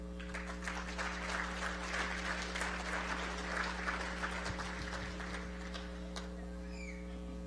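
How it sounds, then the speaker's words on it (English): Audience applause at an Iron Dog snowmachine race awards ceremony, sustained crowd clapping over a steady electrical hum, fading near the end. "Here's to you, the family members."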